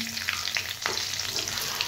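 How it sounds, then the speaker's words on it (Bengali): Green chillies hit hot oil already holding black cumin seeds, producing a loud, dense, close sizzle with scattered crackles and stirring scrapes throughout. "কাঁচা লঙ্কা ফোড়ন।"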